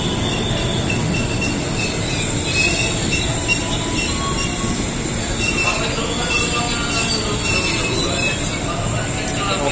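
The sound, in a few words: commuter train passing with squealing wheels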